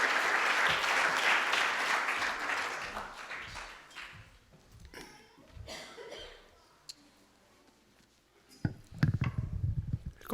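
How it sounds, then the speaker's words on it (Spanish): A church congregation applauds during a Spanish-language service, a broad wash of clapping that fades after a few seconds, followed by scattered sounds, a voice and some louder rustling near the end. "Vamos a dar un aplauso al Señor."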